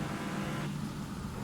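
A car engine in the video game PA: Metro Realm hums and revs briefly, a short steady mid-range drone that dips slightly partway through, fairly quiet and with no voices.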